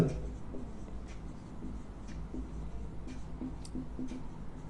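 A pen scratches out a relative-velocity physics problem in a quick series of short strokes and taps, close but soft over a low steady hum.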